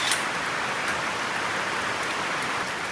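Steady rain falling outdoors, a dense continuous hiss of drops with a few sharper splatters, near and even throughout, with no voices.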